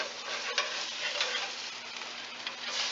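Rainbow trout sizzling on a grill over a flame, a steady, close, fairly loud frying hiss that runs without a break and has no talk over it.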